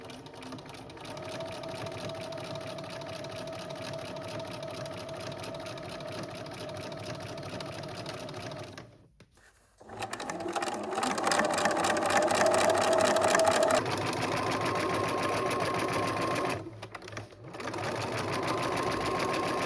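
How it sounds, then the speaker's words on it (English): A sewing machine runs in long steady bursts while stitching evenly spaced rows of shirring on a summer dress, pausing briefly twice between runs, loud and close. "Now you can sew evenly spaced rows of shirring up or rather down until the marking."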